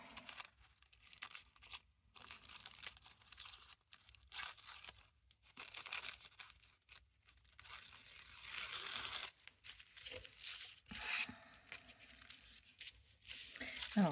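Paper is cut and torn by hand while making a junk journal page, with crisp, close snipping and tearing bursts between quiet pauses and a faint voice speaking in the background.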